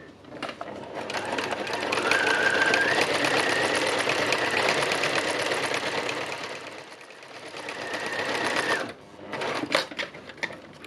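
A sewing machine stitches steadily for about nine seconds, a dense rapid mechanical whir with a brief pitch shift partway, then stops, followed by a few short clicks and handling sounds.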